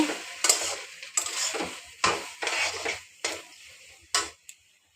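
Coriander leaves stirred into a gourd leaf curry, several distinct scraping and tapping strokes of a spoon against the pot at uneven intervals, close and fairly loud, with quiet gaps between and no talking.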